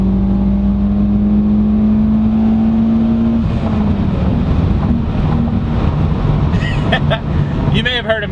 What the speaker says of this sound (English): So let's drop it down a gear.